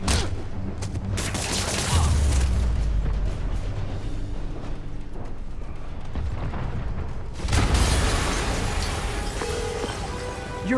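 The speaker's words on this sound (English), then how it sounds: "an explosion just... I saw it." An explosion in the Spider-Man PS4 video game, heard as a loud, sustained rumbling blast with crackling debris under a game score, then a second burst of roaring impact near the end.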